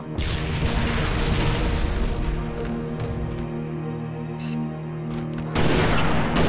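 A frag grenade explodes in Halo Reach during a sniper match on the Courtyard map: a loud roaring blast and rumble over sustained game noise and music, with a second sharp burst near the end.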